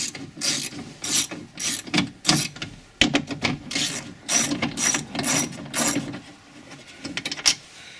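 A ratchet wrench backs out 10mm bolts from the rear side door of a 1998 Isuzu Rodeo, with rapid clicking bursts in repeated strokes, close and loud, with brief pauses between them.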